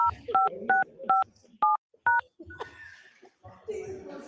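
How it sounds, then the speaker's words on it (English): Telephone keypad tones beep one after another, six short dual-tone presses dialing into a Zoom for Government call, followed by muffled voices and room chatter. "They're dialing now."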